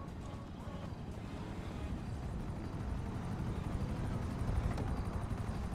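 A helicopter in the video game GTA 5 drones with a continuous rumbling roar that builds slightly louder and holds steady throughout.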